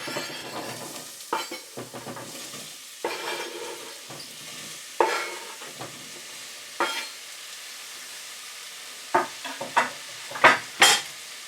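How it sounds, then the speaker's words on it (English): Onions and celery fry in oil in a saucepan over medium heat, a soft sizzle broken by intermittent stirring scrapes and clinks of a spoon against the pan, louder toward the end. "And fry until the vegetables become soft."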